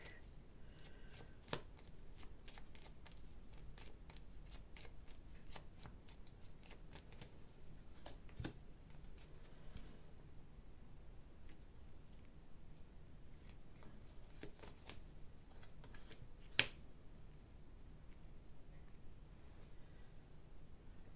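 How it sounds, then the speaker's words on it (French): Tarot cards shuffled and drawn during a card reading, a quiet run of soft, rapid riffling and flicking with a few sharper snaps, steady throughout and heard alone without voices. "je me permets de tirer une ou deux cartes par-dessus"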